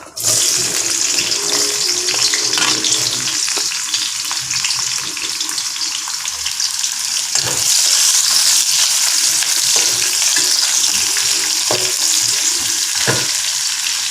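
Onions tossed into hot oil with cinnamon, cloves, cardamom and fennel for mutton perattal: a loud, sustained crackling sizzle close up, with occasional stirring clicks and scrapes, no talking.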